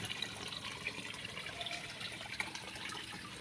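Water from the outlet of a pond filter pump gushes and splashes in a steady, faint outdoor stream, with no talking.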